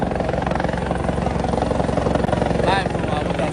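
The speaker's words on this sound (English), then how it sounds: "The helicopter they use" Helicopter flying over Abuja, Nigeria, a steady loud rhythmic rotor chop throughout the short stretch, with voices talking underneath.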